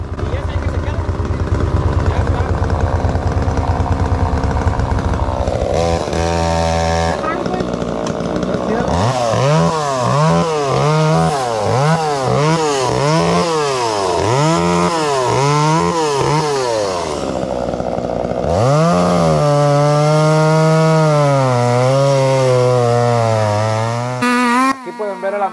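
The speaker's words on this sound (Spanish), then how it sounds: "Caso de Ismael echándole duro a la motosierra para poder cortarlo y quitarlo del medio" Chainsaw cutting through wood while clearing a deer feeding spot ahead of deer season. The engine roars loudly and close, rising and falling in pitch through repeated revs as it bites in, then holds a steady high whine.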